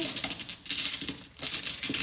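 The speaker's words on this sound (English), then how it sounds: "I have 12 zodiac signs in my case. I shuffle them around" A stack of twelve zodiac sign cards is shuffled by hand in quick, soft rustling and clicking bursts, close and quiet, with a short pause midway and no talking.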